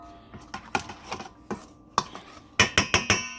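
Utensils clatter and scrape against a bowl while tandoori chicken marinade is mixed, a run of sharp clinks that grows louder and quicker toward the end, close up with no talking.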